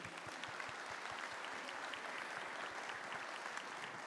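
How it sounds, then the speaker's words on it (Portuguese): Steady, distant crowd applause at a Brazilian church family camp event, dense rhythmic clapping sustained throughout without speech. "Pode aplaudir, pode aplaudir."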